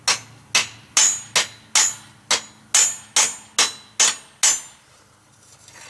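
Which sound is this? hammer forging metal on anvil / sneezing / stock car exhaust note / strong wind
hammer forging metal on anvil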